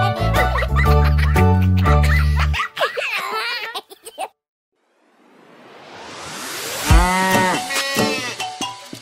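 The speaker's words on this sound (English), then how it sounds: "She is so funny when she goes moo." Cartoon cow mooing in a children's educational song, a long rising moo emerging after music and singing stop briefly, loud and drawn out, followed by a voice joining in.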